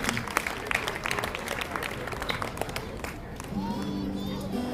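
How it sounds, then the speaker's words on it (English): A crowd at a Toro Nagashi centennial memorial event breaks into sustained applause, dense clapping with some cheering and murmur, later thinning as a tone rises beneath. "So let's give a round of applause in loving memory of Kenny Dash"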